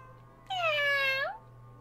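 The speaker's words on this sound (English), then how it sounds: "Is that Lynette with a little kitty?" A single clear cat meow from a video game, rising then falling in pitch and lasting under a second over a quiet background hum.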